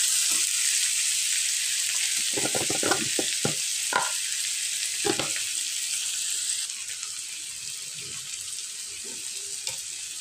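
Tomatoes and spinach cook slowly over low heat in a pan, giving a steady bright sizzle with a few scraping stirs and clicks early on. The sizzle softens slightly partway through.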